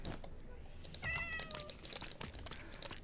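Cats meowing in Minecraft Bedrock, a short high meow amid quick clicking taps and game sounds, faint and close.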